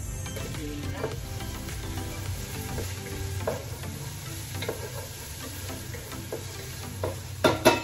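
Onion and tomato frying in a pan, a continuous close sizzle with occasional stirring clinks and scrapes, growing louder in a few clattering knocks at the end.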